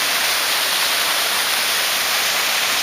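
A stream flows past a nighttime water crossing on the Mount Whitney main trail, a loud, steady, close rushing hiss with no voices.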